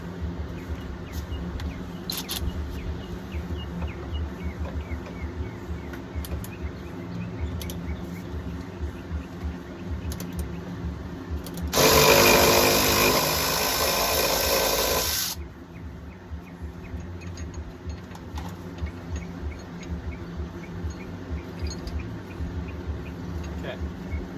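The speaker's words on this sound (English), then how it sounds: "you're going to unbolt your end link" A wrench works loose a 17 mm suspension end link nut on a 1994 Honda Accord, heard as one loud sustained burst of harsh whirring mid-stretch amid steady background noise, with faint talk around it.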